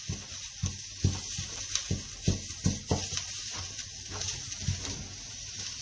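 Garlic for a seafood chowder sizzling in a hot pan, a steady close frying hiss broken by repeated scraping knocks of stirring.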